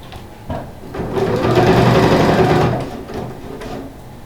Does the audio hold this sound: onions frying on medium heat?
no